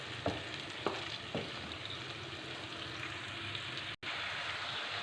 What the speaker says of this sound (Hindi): इसको डालकर हम चिकन को इसके साथ अच्छी तरह मिक्स करेंगे।